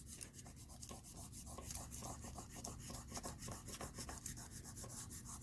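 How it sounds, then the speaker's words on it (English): A tool rubs repeatedly along the lines of a polymer clay pendant, giving close, soft scraping strokes in a quick, fairly regular rhythm with no speech. "right now we're going to burnish, and we're going to go with our lines, just to get it all stuck together again"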